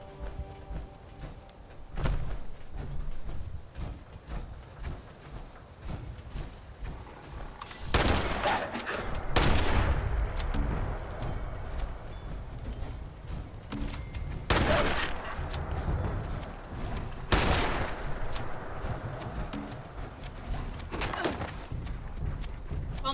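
Bursts of gunfire in the Fallout video game, several loud volleys spaced a few seconds apart over a busy background, with a voice talking at times.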